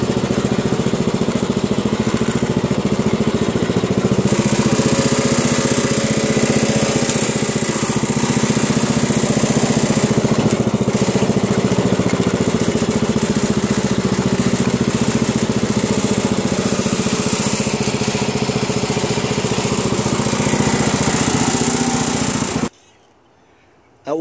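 Craftsman lawn tractor engine at low throttle, a loud, steady droning hum close to the mower, running continuously before cutting off abruptly near the end.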